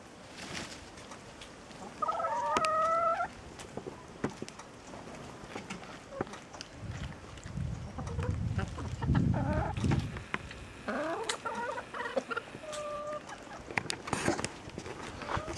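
Hens being fed watermelon, giving soft intermittent clucks and a few short calls at moderate distance, with low rustling and pecking noises in between.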